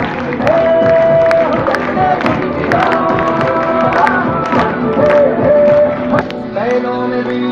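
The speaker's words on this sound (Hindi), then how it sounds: "आपकी जोरदार तालियों के साथ" Loud crowd applause and cheering fill a gold achievers' recognition celebration, steady and dense throughout, with music and voices layered on top.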